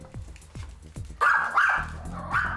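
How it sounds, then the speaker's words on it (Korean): A dog barks repeatedly indoors: a few short, sharp barks spaced apart, then a louder, longer burst of rapid barking and yelping, close and fairly loud. "한번 짖기 시작하면 쉽게 멈추지 않았죠."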